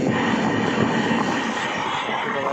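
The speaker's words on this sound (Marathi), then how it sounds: "ट्रेन तर आता निघाली आहे।" A train departs and rolls along toward Sawantwadi station on a Goa route, with a steady loud rumble and clatter from inside the moving carriage.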